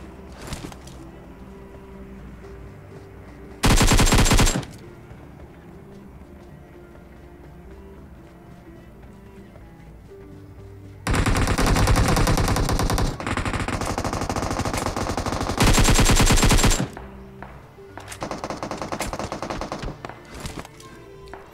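Automatic weapon fire in the mobile shooter FAU-G comes as several loud rapid bursts of machine-gun shots, separated by quieter stretches of game ambience, with no talking.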